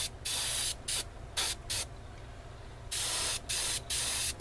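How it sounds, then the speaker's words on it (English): An airbrush sprays acrylic primer onto a plastic model kit in short, sharp bursts of close hiss, several on-off pulses of varying length separated by brief quiet gaps. "how nice an airbrush can be for building models"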